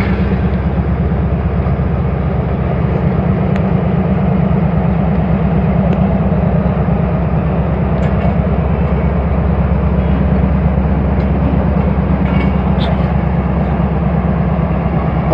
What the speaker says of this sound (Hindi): पत्तों के शहर को इलामाबाद एक्सप्रेस छोड़ रही है